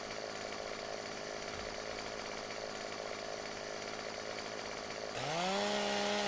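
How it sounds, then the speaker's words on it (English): A chainsaw cuts wood in the video game Farming Simulator 17, a steady loud buzzing drone that rises in pitch near the end as the engine revs, with no voices. "one way we can circumvent that is by grabbing our handy dandy chainsaw"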